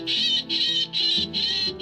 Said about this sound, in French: on les chasse avec des sons d'oiseaux effrayés par des rapaces